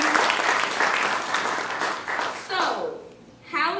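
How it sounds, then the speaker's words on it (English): Audience applause at an education event in Savannah, Georgia: a dense wash of clapping from a crowd, loud at first and gradually thinning and fading, with a voice breaking in near the end. "Give a round of applause for that."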